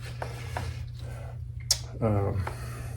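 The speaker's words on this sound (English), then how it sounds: "Got my ratchet jammed in there" Ratchet wrench clicking on a 2009 Harley Electra Glide rocker box, a few short metallic ratcheting bursts close up over a low steady hum, with faint mechanical knocks in between.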